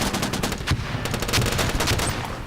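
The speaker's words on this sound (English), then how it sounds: "Get an artillery strike down." An artillery strike in the Warfare Online video game comes through as dense rapid crackling gunfire and blasts, loud and continuous with no clear gaps.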